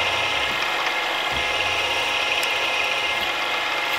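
A 6.2mm stub drill bores through a cylindrical piece of silver steel on a machine, giving a steady, loud mechanical whir and grind that runs unbroken, with no voices.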